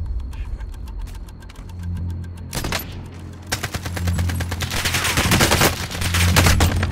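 Gunfire in Call of Duty Warzone, solo mode: loud rapid automatic bursts starting with sparse shots, then dense sustained fire from an AK-style rifle, close and continuous over a low rumbling background.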